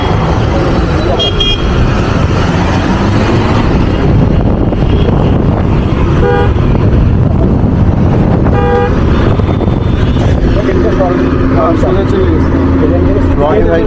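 Steady loud road traffic with car horns tooting at intervals while driving onto a highway, heavy wind and engine rumble throughout, with voices talking over it.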